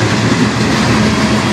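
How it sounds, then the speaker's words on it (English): A CN manifest freight train led by an Illinois Central Heritage locomotive rolls past on the Strathroy Subdivision, a loud, steady rail roar with wheel rumble and faint clatter throughout. "Not a very long train, but not too bad."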